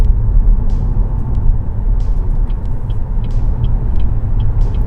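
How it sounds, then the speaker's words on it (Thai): A BYD Atto 3 Extended Range MY24 electric car cruising at about 70 km/h on the Chalong Rat expressway, heard from inside as a steady, loud road and tyre rumble with a few faint clicks scattered throughout. "ตอนนี้ ผมขับอยู่ความเร็ว 70 แล้วนะครับอยู่บนทางด่วนฉลองรัฐครับผม"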